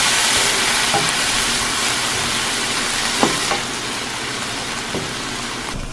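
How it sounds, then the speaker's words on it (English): Vegan black bean enchilada filling being stirred in a hot pan, a steady sizzle with a few soft scraping knocks from the spoon. "Let's give this a stir."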